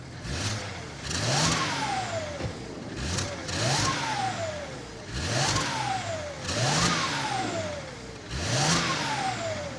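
BMW 335i wagon with a custom exhaust, a 335i front section joined to a 325i rear section, revved repeatedly: five rising engine pulls, each falling away before the next, loud and close with no talking.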